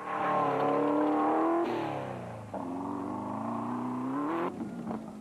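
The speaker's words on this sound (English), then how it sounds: "the Kopanang Hotel Super Team Jinko with a BMW engine streaking by" An off-road racing truck powered by a BMW engine roars past at close range from a low vantage point, its loud engine note rising and shifting pitch as it streaks by and recedes.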